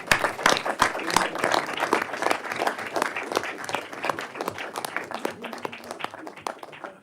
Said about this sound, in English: Let us give him a big applause.